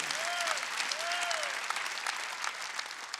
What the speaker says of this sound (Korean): 박수로 하나님께 영광을